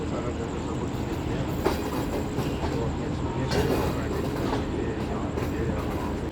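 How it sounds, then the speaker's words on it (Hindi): Shalimar Express passenger train rolling slowly into a platform at Lahore Junction station: a steady rumbling roar of wheels and carriages with faint squeals and knocks, heard from on board. "लाहौर जंक्शन रेलवे स्टेशन के प्लेटफॉर्म नंबर 2 पर पहुंच रही है ट्रेन हमारी"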